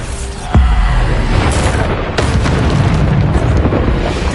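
A Bombarda spell explodes in the Hogwarts Legacy video game, a loud, close boom with a deep rumbling tail, followed by sharper bursts and crackling debris over steady game noise.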